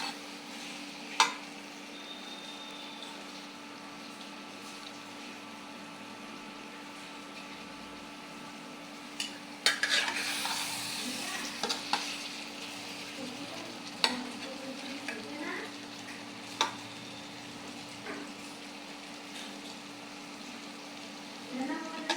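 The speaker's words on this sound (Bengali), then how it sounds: "আমি সিম দিয়ে টমেটো দিয়ে পার্শে মাছ দিয়ে রান্না করতেছি।" A curry of flat beans, tomato and parshe fish cooks in a wok, with a soft steady sizzle broken by occasional scrapes and stirring clatters from a utensil against the pan.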